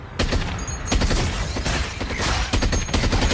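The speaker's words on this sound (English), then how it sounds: "they get this gun and now they can shoot the aliens" Dense bursts of gunfire from an alien-shooting movie scene, loud and continuous with rapid overlapping shots and heavy blasts throughout.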